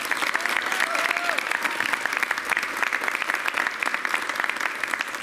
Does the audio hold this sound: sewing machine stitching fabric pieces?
no